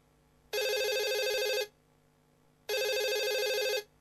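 Telephone bell ringing in a radio advertisement, two loud sustained ring bursts separated by a short pause, heard alone over a faint background hum.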